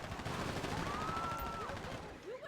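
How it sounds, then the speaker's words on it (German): A minigun firing in GTA 5 Online during the Lester heist finale, a dense rapid burst of shots held for a couple of seconds under a rising whine, fairly faint and muffled. "Du musst mit der Minigun drauf schießen."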